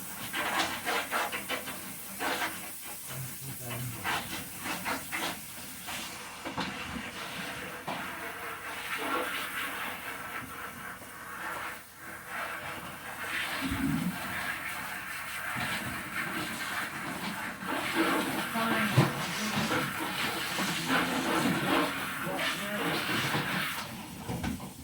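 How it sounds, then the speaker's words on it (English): Dishes being washed up in a home kitchen, a continuous watery hiss of running tap water with clinks and scrapes of crockery throughout, steady and fairly loud. "I'm about to do these dishes up."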